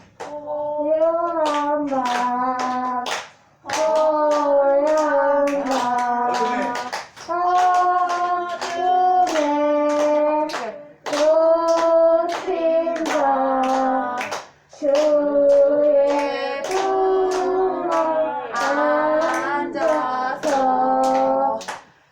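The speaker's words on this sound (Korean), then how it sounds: "옆에서 박수 쳐, 박수." At a Christmas church program, hands clap in a steady rhythm alongside children singing a song, with the clapping and singing stopping briefly between phrases before resuming.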